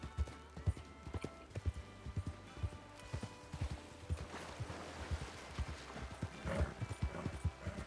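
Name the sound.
horse hooves clip-clop in a video game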